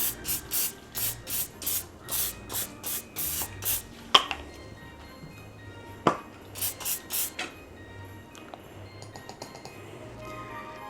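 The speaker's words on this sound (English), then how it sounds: "Do very light spray." A rapid string of short, hissing bursts of cooking spray onto a baking pan, followed by a couple of metallic clanks and quieter rubbing sounds.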